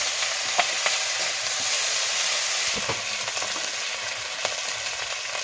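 Garlic, ginger and cumin paste fries in hot oil for a potato, tomato and papaya curry, a steady close sizzle with occasional stirring clicks throughout, no voices.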